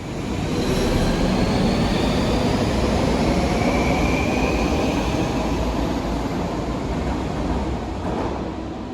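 Rome metro train rumbles along the rails, a loud, continuous roar of wheels and motors close by that holds steady for several seconds and eases slightly at the end, with no talking.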